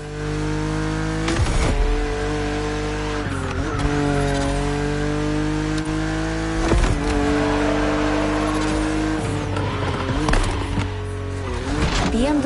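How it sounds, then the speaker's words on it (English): A BMW Z roadster races in a driving video game, its engine revving high and steady with repeated gear changes, pitch dips and bursts of tire squeal, loud and close throughout, with no talking. "BMW Z models are what we call roadsters."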